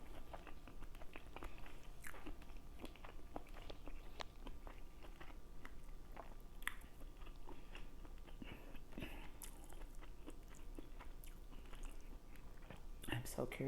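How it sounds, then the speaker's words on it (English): Close-up chewing of egusi seafood with spinach during a homemade mukbang: steady soft wet bites and crunchy mastication throughout, with faint speech in the background. "Okay, so our first bite, and that's spinach."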